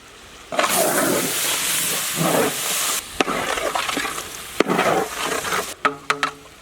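Scrambled eggs with coconut powder and coriander leaves are stirred and mixed in a hot pan, giving a steady sizzling hiss broken by scraping strokes and a few sharp clinks near the end.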